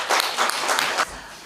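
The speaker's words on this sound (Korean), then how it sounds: "박수 한번 주십시오" Audience applause at a book launch for an art history book at an arts venue, a burst of clapping lasting about a second before stopping abruptly.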